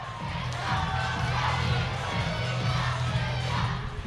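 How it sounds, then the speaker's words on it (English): A home crowd at a high school basketball game cheers and roars continuously, loud and dense, with shouts and chatter mixed throughout. "You can hear our crowd over there."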